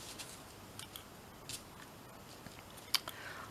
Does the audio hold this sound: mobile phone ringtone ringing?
no